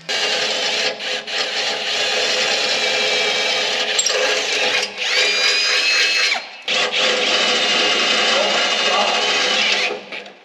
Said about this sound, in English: drilling for the switch